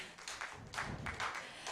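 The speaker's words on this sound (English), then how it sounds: "Round of applause for all our presenters today." Brief burst of audience applause for presenters at a Hari Warisan heritage day event, scattered claps rising in several soft waves, fairly quiet and distant in a room.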